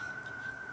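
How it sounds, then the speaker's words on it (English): An ambulance siren wails outside in Los Angeles, a steady distant tone sustained through the brief moment with no talk over it. "Can you hear the ambulance?"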